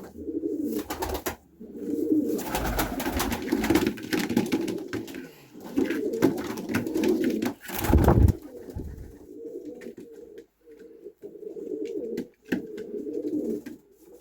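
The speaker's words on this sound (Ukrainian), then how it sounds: "Так, це теж турецька голубочка." Turkish pigeons coo in low, throaty rolling bursts, close and fairly loud, repeating over and over with short gaps and some fluttering rustles.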